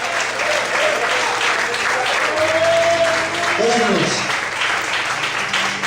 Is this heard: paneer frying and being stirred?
no